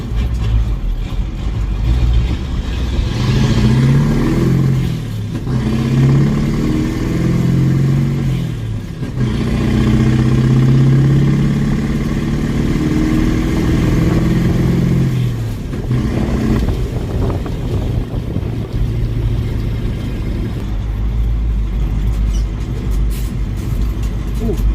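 Ford F8000 truck with a Caterpillar 3208T 10.4-litre turbo diesel V8 pulling hard in high range, a deep loud engine roar that builds in surges with brief gear-change dips, steady and close throughout.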